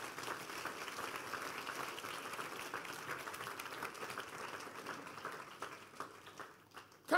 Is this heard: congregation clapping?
yes